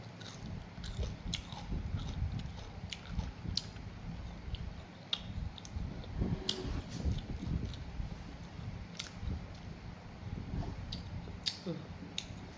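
Rice with shellfish curry and cha-om leaves is eaten close up, with soft repeated chewing and crisp bites under a low background hum and occasional clicks.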